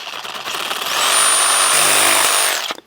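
A power tool bevels the edges of wooden handrail pieces with a loud, close, steady high whine that swells for about two seconds, then cuts off abruptly.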